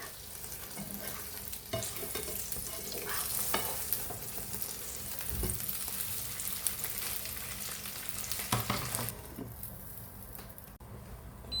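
Potato pancakes (deruny) frying in a covered pan give a steady, close, dense sizzle that runs throughout, with occasional clicks and a brief dip near the end.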